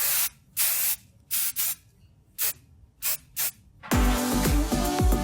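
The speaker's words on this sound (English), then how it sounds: "Just a touch of hairspray." Hairspray hisses onto a wig in about seven short, sharp bursts separated by brief silences, then a louder, fuller sound with a tonal layer takes over.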